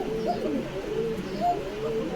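Domestic pigeons at a farm in Bogura coo softly in several short, repeated calls, close by over a low background hum.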